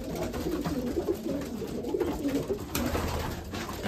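Hungry young racing pigeons in a loft keep up a dense, overlapping cooing, a continuous murmur of nearby birds with no pauses.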